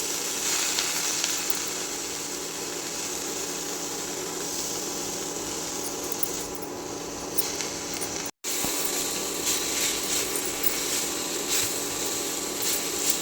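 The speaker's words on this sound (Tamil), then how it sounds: "கொத்தமல்லி ரொம்ப நேரம் வதக்கலாங்க ஒரு ரெண்டு நிமிஷம் வதக்கினாலே நல்லா வதங்கிடும்" Coriander leaves sautéing in a pan on a stove for a Tamil-style coriander chutney, giving a steady broadband sizzle with faint stirring scrapes throughout and a momentary dropout near the end.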